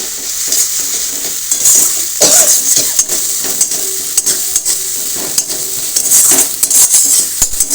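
Ginger paste and spices for a chicken biryani sizzle loudly in a pot, stirred hard with a metal spoon that scrapes and clinks repeatedly against the sides, close up.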